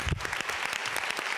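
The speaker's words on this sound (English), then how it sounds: "Can we just clap you. for all the organizers and everyone one more time?" Brief burst of audience clapping at a gender studies symposium keynote, a dense patter of many hands filling the room for just over a second.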